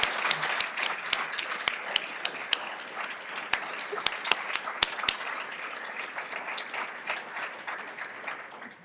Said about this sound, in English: Let's give a big round of applause for our 2022 Rising Stars.